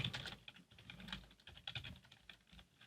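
Fingers typing text on a computer keyboard, a quick close run of light clicking keystrokes in uneven bursts with no voice.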